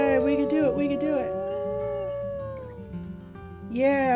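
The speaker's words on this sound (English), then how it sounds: "Howl." A wolf in the WolfQuest video game lets out long, sliding, tonal howls, loud and up front, rising again near the end.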